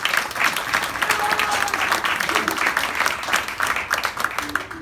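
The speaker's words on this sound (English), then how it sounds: "So please a round of applause for her." An audience claps warmly for a performer's mother, seated in the crowd at a concert, a continuous, fairly even wave of applause carrying throughout with a few louder individual claps.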